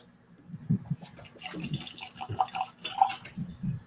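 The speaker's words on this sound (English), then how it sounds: "So let's go in here and pour this up." A Scotch whisky sample, a 14-year-old single malt at 46% ABV, is poured into a glass: close, soft liquid glugs and splashes with a few clinks, fairly quiet and without talk.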